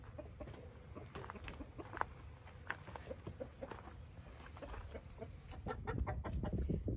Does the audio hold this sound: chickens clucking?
yes